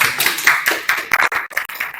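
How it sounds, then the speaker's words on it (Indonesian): A room of people applauds group 1 in a classroom, a short burst of uneven close-up claps and taps that thins out and drops away within a couple of seconds. "tepuk tangan untuk kelompok 1"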